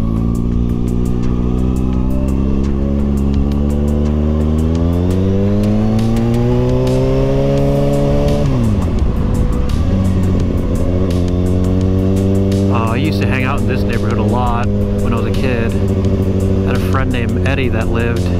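A motorcycle rides along with a steady loud engine drone, then the pitch drops as it slows and comes to a stop before the engine settles into idle, with faint clicks and rustling near the end.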